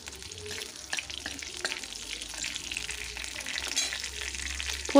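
Nigella seeds and two slit green chilies fry in hot oil as a tempering for a yogurt pointed-gourd dish. There is a steady, gentle sizzle with occasional stirring clinks, close by and with no talk.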